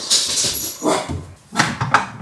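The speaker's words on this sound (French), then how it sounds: "Ah non, c'est un chien." A dog whining and giving short muffled barks at a distance indoors, a few uneven cries over about two seconds, faint and somewhat noisy.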